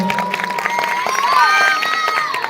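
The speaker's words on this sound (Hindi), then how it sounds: "एक बार फिर से एक बार जोरदार ताली" A crowd at a college camp event claps and cheers loudly, with shouts and whistles rising over continuous applause.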